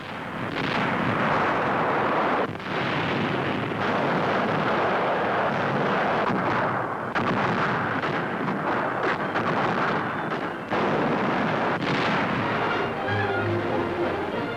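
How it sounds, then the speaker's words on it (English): Heavy continuous bombardment of the Pantelleria island stronghold in 1943, a dense roar of artillery fire and explosions rumbling without pause, with a faint aircraft drone near the end. "after 18 days of continuous pounding, the island stronghold crumbles beneath the attack"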